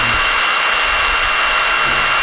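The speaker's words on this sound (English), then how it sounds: "I've got the smallest twist drill bit I can find, and I'm going to put a hole in the," A small twist drill bit bores a breathing hole into a wooden pen body, giving a steady, close high-pitched whir with a faint grinding edge throughout, with no talking.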